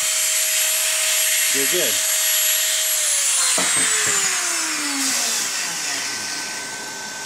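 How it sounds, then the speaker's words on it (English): A power drill whirs loudly as it drills through an RC car tire, its pitch sliding down as it bites in and slows, with a brief spoken remark partway through. "Put it on there and let the drill do the work."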